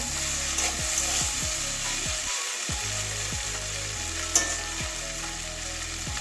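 Potato, carrot and spring onion fry in a pan for a Bengali dish, a steady loud sizzle with repeated spatula scrapes and stirring strokes at a regular pace, close by.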